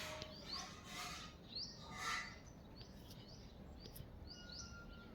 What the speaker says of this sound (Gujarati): પોપટ આવ્યા છે